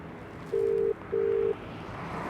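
Telephone ringback tone on a call, two steady identical beeps each about half a second long with a short gap, clear and alone over a low background hiss.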